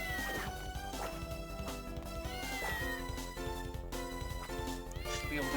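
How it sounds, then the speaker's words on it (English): A cat meows repeatedly in the video game Castlevania: Order of Ecclesia, the cries mixed into loud game music and effects. "There's a cat in here."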